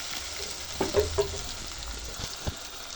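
Ginger garlic paste frying in oil for a chicken dish, a steady soft sizzle with a few brief stirring knocks and scrapes in the pan.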